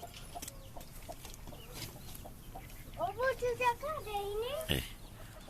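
An old hen, the eldest of a backyard flock, gives a run of soft, wavering clucks at close range, following scattered rustling and a brief word from a person.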